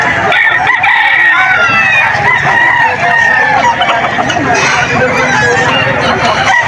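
Many gamecocks crowing and clucking over one another at the Bocaue pet market in the Philippines, a dense, continuous clamor of fowl close by, with a crowd murmuring underneath.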